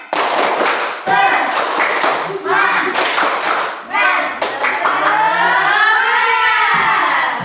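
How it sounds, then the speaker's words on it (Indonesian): A class of teacher trainees claps a rhythmic group cheer, loud patterned bursts of clapping in bouts separated by short gaps, with voices chanting and calling along throughout. "Ya, ayo tepuk semangat, tepuk semangat."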